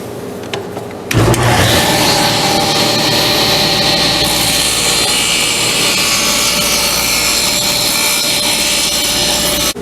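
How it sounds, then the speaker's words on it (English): Power saw blade spins up with a sharp start and cuts a notch in kitchen window trim, a loud sustained whining roar of blade through wood that holds steady for the rest of the clip, close and alone. "blade set up to cut that notch"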